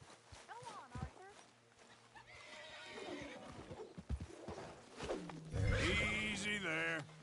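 A horse in Red Dead Redemption 2 whinnies in a loud, quavering burst near the end, after earlier snorts and clip-clopping hooves, with a voice talking over the scene.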